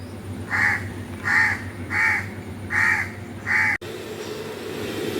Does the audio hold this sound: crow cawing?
yes